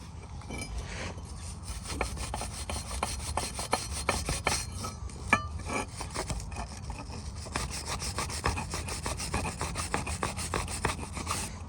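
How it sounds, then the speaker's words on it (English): Wire brush scrubbing rust off a Jaguar rear brake caliper bracket, a close, continuous rapid rasping with quick back-and-forth strokes and a few sharper scrapes. "Now I'm going to hit it with the wire brush."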